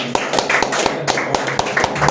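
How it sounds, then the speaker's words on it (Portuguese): A congregation clapping hands in rhythm during worship at an apostolic church service, sharp regular claps repeating about every quarter second and sounding fairly close. "As palmas louvam ao Senhor Jesus"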